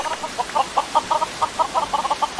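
Chickens in the video game Mini World give a quick run of short, bright clucks in uneven bursts, close and clear, with no talking.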